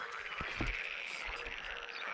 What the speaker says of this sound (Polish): Żabki